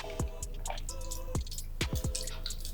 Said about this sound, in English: Next, we're going to strain in our mix.